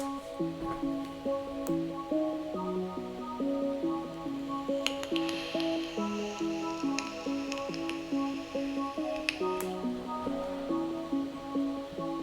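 A synthesizer chord preset in Ableton plays a sequence of layered chords with a soft, pulsing rhythm, accompanied by crisp clicks and airy percussive textures.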